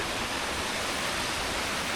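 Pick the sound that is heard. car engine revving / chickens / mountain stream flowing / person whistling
mountain stream flowing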